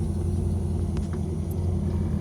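On a bagged C5 Corvette, the air suspension compressor fills the bags with a steady, low droning hum and a faint higher whine, constant and close, without speech.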